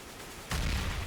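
A grenade goes off on the Cobblestone map of Counter-Strike during a competitive match: after a quiet half second, a sudden loud broadband burst swells into a sustained roaring rush with no talk over it.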